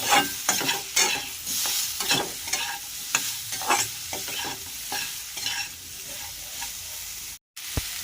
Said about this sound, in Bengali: পরিমাণ মতন লবণ আর পরিমাণ মতন হলুদ এগুলো দিয়ে আমি ভালো করে এবারে কষিয়ে নেব